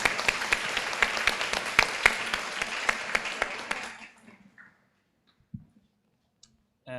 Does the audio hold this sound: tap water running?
no